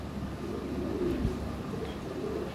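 Lahori pigeons coo softly in a low, murmuring warble, a short quiet stretch of cooing against faint background noise.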